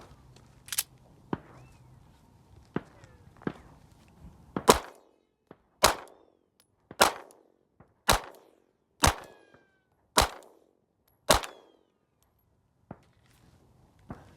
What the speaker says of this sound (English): The kaboom is getting a lot more as I raise the grains of the rounds that I'm shooting.